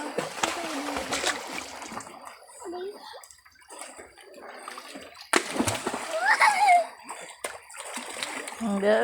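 A child swimming and splashing in water, with intermittent splashes and sloshing, louder toward the end, while adults talk and call out in the background.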